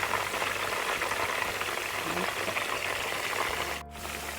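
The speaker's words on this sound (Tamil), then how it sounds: "அப்படியே மிதமான சூட்டில் வறுத்து வறுத்த வரைக்கும் போதும்." Mutton kofta balls fry in a pan over moderate heat, giving a steady, close sizzle that fills the whole stretch with a brief dip near the end.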